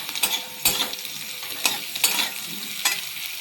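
Potatoes sizzle in a pan while a utensil scrapes and stirs in several quick strokes, close and fairly loud, with no talking.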